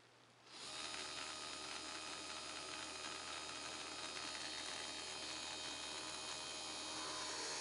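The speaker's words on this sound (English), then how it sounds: "I have a gear motor hooked in series with the LED." A small gear motor wired in series with an LED runs under load, a steady close whirring gear drone that starts abruptly and continues evenly without pause.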